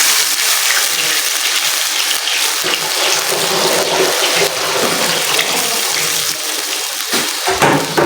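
Water from a bowl splashes and pours steadily into a pot for several seconds, a close, continuous rushing sound with no talking.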